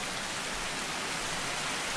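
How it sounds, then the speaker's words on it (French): Heavy rain pours steadily in Borneo, a dense, even wash of hiss with no breaks, moderately quiet and unaccompanied by voices. "il pleut des cordes et c'est prévu toute la journée comme ça"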